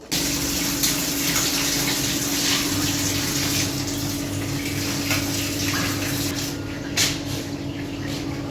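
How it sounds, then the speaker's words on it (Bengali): Water runs steadily from a tap while clothes are washed at home, a constant gushing hiss with a low pump-like hum beneath it and a few faint splashes. "কাপড় ধোয়া শুরু করে দিলাম।"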